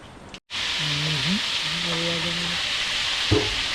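Food frying over a charcoal fire, a steady, close sizzle and crackle that holds throughout, with brief tonal voices or sounds rising faintly above it.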